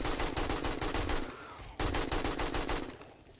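Rapid automatic gunfire in the zombie survival game 7 Days to Die, a dense, loud stream of shots that breaks off briefly, then resumes at the same fast rate before trailing off.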